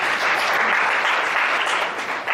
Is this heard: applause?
yes